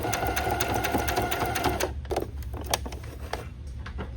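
A sewing machine stitches bias tape onto a needlepoint canvas, running in a rapid steady whir before stopping for back stitches, then a few scattered clicks and taps as it halts.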